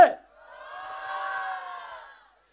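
An audience at a Gujarati sangeet evening show in Mumbai lets out a single sustained shout and cheer lasting about two seconds, swelling and fading after a brief sharp burst at the start.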